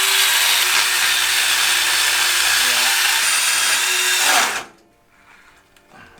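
A Bosch 18V cordless band saw cuts through material in a loud, steady, bright whine that runs for about four and a half seconds, then stops abruptly and leaves faint quiet.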